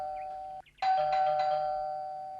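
A doorbell rings once at a home's front door, a clear electronic ding-dong chime that sustains and slowly fades, preceded by a faint tone and a brief dip.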